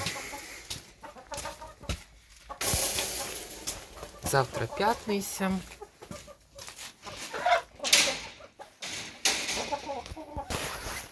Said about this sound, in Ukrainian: кури всі сюди в одне місце. Скупчення курей.